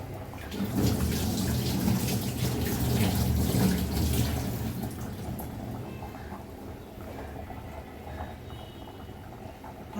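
Water and then milk poured over a sesame bhakri as it cooks, a steady running splash that holds for several seconds before easing off, with no talking.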